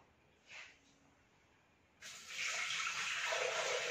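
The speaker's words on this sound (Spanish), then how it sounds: "Vamos a poner 600 de agua." Water from a tap pours steadily into a Thermomix bowl, a close, hissing stream that starts after a short splash and runs on unbroken to the end.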